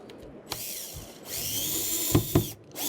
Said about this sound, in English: what we're showing now is Kurt's obviously screwing it